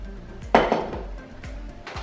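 A metal saucepan for making choux pastry clanks once against a surface, followed by lighter knocks and rattles of cookware in a quiet kitchen.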